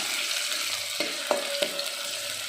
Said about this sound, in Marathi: गॅस मोठा करायचा आणि चांगला हा परतून घ्यायचा आहे कांदा